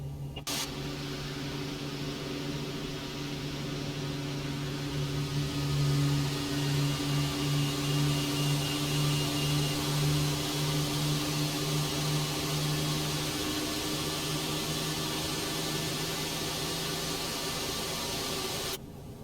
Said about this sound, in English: Alright, so we got the engines going and available.